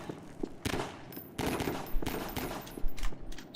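Video game gunfire in a Garry's Mod Prop Hunt round comes as several bursts of sharp shots in an uneven rhythm, fairly quiet, with no one talking.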